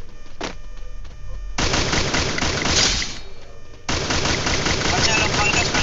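Automatic gunfire in the mobile battle royale game Free Fire rattles loudly in long continuous bursts with a brief lull between, filling the mix up close.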